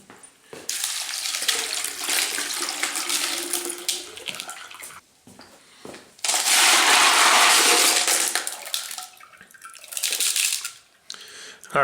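Tap water runs and splashes over tumbled rocks and ceramic media being rinsed after a 500 grit stage, loud hissing bursts that stop and restart, with the rocks clattering in between.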